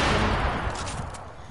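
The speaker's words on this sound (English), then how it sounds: "All he hears explosions." Gunfire and explosions from the video game Red Dead Online sound as a brief, muffled burst of shots, with a dense blast that fades out within moments.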